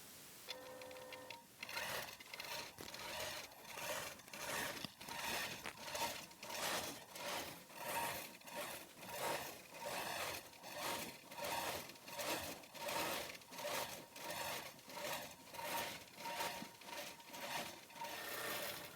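A sewing machine quilting through a minky quilt runs in steady rhythmic bursts of close, regular stitching chatter, pausing briefly between runs, with no voices.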